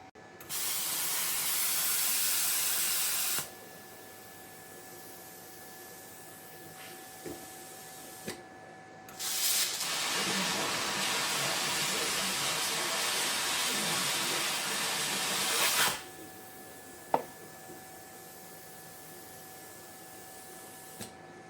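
Tooliom 50 amp plasma cutter cutting 1/8 inch material, two loud sustained roaring hisses of several seconds each, separated by a quiet gap with faint clicks.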